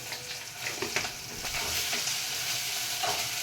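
Ingredients frying in a pan for a country chicken curry, with onions and curry leaves sizzling in oil and a spoon stirring; steady close crackle and hiss with scraping stirs throughout, and no one speaking.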